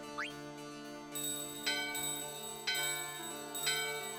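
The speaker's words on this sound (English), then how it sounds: "You ring the bell as usual." A doorbell rings in Final Fantasy 9, its bright metallic chimes striking several times at a steady pace, each ring decaying over a sustained musical background.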